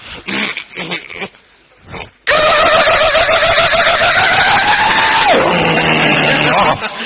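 A car engine cranks and catches, starting abruptly and then running loud and steady before the revs drop to a lower idle near the end; brief speech comes just before.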